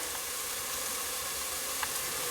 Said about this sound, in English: I am going to add them over here to my frying pan that's frying up.